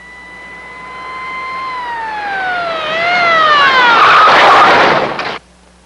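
A loud wailing ambulance siren sweeps down in pitch and grows louder and rougher as it nears, then cuts off abruptly.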